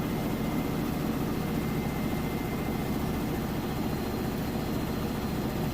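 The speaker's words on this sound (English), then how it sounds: "we're well into that final spin cycle now" A Whirlpool Cabrio Platinum washer in its final fast spin cycle gives a steady, loud, unbroken whirring rumble with a heavy low hum that holds constant throughout.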